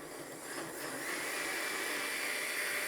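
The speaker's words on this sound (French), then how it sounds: "Ici, je vais le faire avec le blender." A blender runs hard through food, a steady whirring, hissing roar that rises slightly in pitch and stays loud and constant, close, with no talk.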